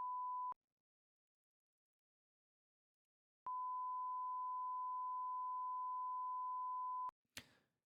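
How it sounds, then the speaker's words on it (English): Pure 1 kHz sine tone raised by 6 hertz: a short steady beep, a pause, then a long unbroken tone lasting several seconds, followed by a brief faint rustle. "There's our 1K sine wave, again, the pure tone, and now I'm going to increase it by 6 hertz."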